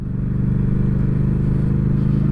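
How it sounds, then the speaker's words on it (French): A Yamaha MT-07 A2 twin-cylinder motorcycle engine drones loud and close, rising slightly at the start and then holding a throbbing, steady pull. "Le bicylindre il attaque bien."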